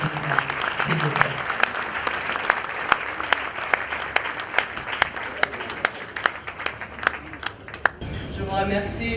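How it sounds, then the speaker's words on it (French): Applause from an audience at an award ceremony for new laureates attended by President Félix Tshisekedi, moderate and fairly thin, with distinct individual claps standing out, ending abruptly as speech resumes. "Sous vos applaudissements, s'il vous plaît."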